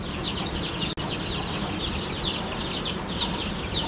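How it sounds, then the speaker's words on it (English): Chickens cluck steadily outdoors beside Philippine rice terraces, a dense, continuous chatter of several birds close by, with one brief break in the sound and no talking. "you have another chicken there, a black one"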